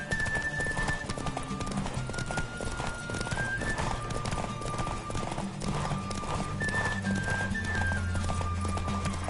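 Rapid clip-clopping hooves of a galloping horse continue throughout with repeated neighing and whinnies, close and prominent over a tonal musical line, with no one talking.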